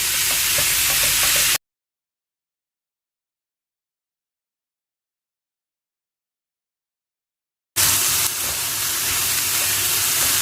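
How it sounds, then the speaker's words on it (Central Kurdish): Small pieces of chicken breast hiss and sizzle steadily in a pan as the water cooks off, a close, even frying sound broken by a long stretch of silence in the middle. "ئێستا تەمەشاکەن هەموو ئاوەکەی وشک بووە تقریبەنەوە یەک چارەگە سۆری دەکەمەوە"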